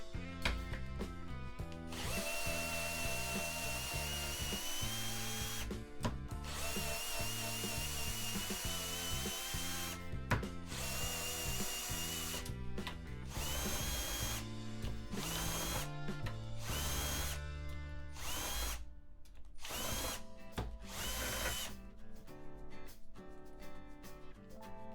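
A power drill spins a universal socket against a bolt in repeated bursts, the motor whining loud and steady between short stops and restarts.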